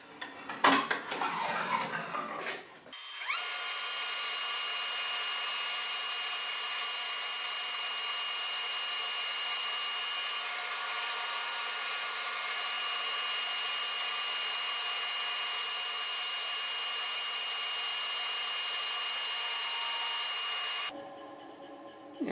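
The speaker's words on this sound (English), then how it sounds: "and you can run it through the bandsaw blade." Bandsaw cutting wood clamped to an Accu-Slice fence, with a steady, loud, high-pitched whine as the blade runs through the wood for about eighteen seconds, after a brief clatter of setup.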